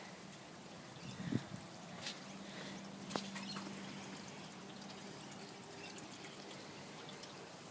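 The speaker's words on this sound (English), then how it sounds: "This is all that water coming around." Rainwater runs and trickles around a house after a storm, a quiet, continuous pouring wash with a few faint splashes and steps in the water.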